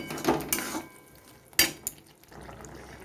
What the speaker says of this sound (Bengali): সসটা দিয়ে কিছুক্ষণ নেড়ে চেড়ে নেব